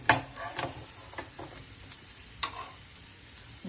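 Yam (senai) varuval shallow frying in a pan, a soft steady sizzle broken by several scraping stirs of a spatula, close and moderately quiet.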